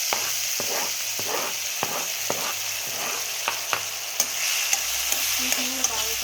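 Chopped tomatoes sizzling in a pan for tomato rice, stirred with regular scraping strokes and light clinks against the pan, close up under a steady frying hiss, no talking.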